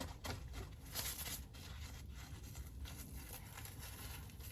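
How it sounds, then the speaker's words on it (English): Light rain falling in a garden in February, a faint continuous patter with soft scattered ticks and rustles, with no voices. "it's just started to rain again"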